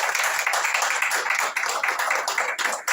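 Audience applause at an embassy jubilee launch event in Tokyo: steady, dense clapping from a crowd, filling the whole stretch at a fairly loud level with no pauses.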